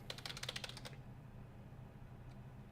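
A computer keyboard is struck hard in a quick burst of about a dozen soft clicks lasting under a second, close but quiet, then near silence with room hum.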